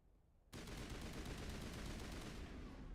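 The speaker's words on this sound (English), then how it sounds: "Assault rifle." Quiet lull broken by a sudden burst of rapid assault rifle fire in the Mass Effect video game, shots rattling on continuously for over two seconds, loud and close.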